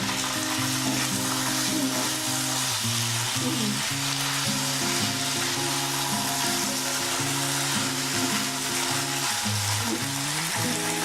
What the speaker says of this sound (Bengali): মশলাটা ভাজা হবে।